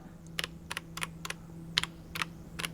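A handful of crisp Keychron C3 Pro mechanical keyboard clicks, irregularly spaced, close and clear over a low electrical hum.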